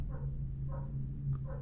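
In Dishonored, hounds guarding the Dunwall Tower grounds let out three evenly spaced barks, soft and somewhat distant, riding on a steady low droning background.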